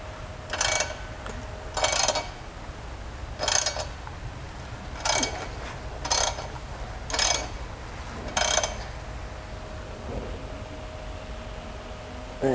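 A BMW M42B21 four-cylinder engine turned over by hand with a ratchet wrench: seven evenly spaced bursts of rapid clicking pawl ratcheting, close and fairly loud, over a quiet background with no talking.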